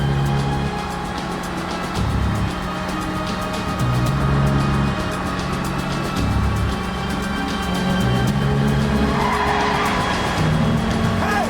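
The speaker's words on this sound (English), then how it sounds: "Target vehicle is now building up speed." A car accelerates hard during a police pursuit, its engine revving steadily with tire squeal and skidding, loud and continuous without any talk.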